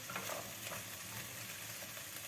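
Yogurt seasoned with black pepper and ginger is stirred in a pot for a chickpea and meat stew, a soft, steady scraping and swirling that stays quiet and continuous.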